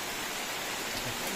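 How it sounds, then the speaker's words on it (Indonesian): Heavy rain falls at an outdoor gourami fishing pond, a dense, even hiss of downpour that fills the whole moment without a break. "Oh, hujannya lumayan deras."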